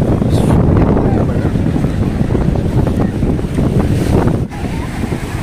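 Sea waves wash ashore at Velankanni beach, a continuous loud roar of surf heavily buffeted by strong wind rumbling across the microphone throughout.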